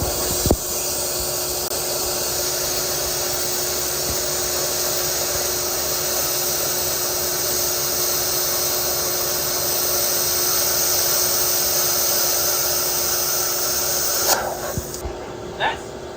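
A plasma cutter runs continuously on a 3rd-generation Toyota Tacoma cab mount, a loud, steady hissing roar that stops abruptly near the end.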